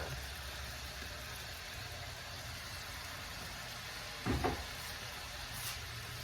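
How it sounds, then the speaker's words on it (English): Kale cooking in a skillet with sausage and onions gives a steady low sizzle throughout, with a brief stir or clatter near the end. "I am going to actually put the kale in with the sausage and onions and let it start wilting down a little bit."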